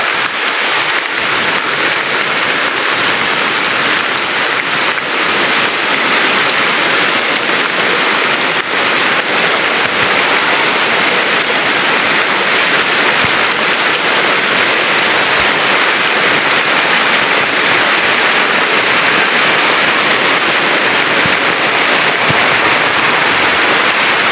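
Heavy rain pours down in a constant dense hiss with rushing water from an overflowing drainage canal, loud and unbroken throughout.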